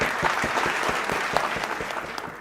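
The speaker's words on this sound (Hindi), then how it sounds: "ज़ोरदार तालियां हो जाए इन सब के लिए" Seminar audience claps for honored guests, with a moderately loud, steady patter of many hands and some distinct individual claps standing out in a loose rhythm throughout.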